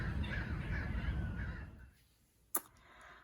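Crows caw in a short burst of harsh calls over an outdoor background, followed by quieter ambience and a sudden sharp knock near the end.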